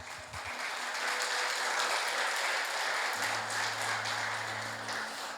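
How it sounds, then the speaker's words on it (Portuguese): A church congregation applauding during a sermon, dense sustained clapping from many people filling the room evenly, with a low steady hum in the background. "Aplauda o Senhor Jesus."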